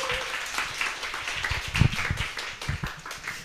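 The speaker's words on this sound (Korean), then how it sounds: "우리 환영하는 의미에서 박수로 목사님 맞이하겠습니다." A church congregation applauding to welcome a pastor, a dense wash of many hands clapping at moderate distance, steady for a few seconds.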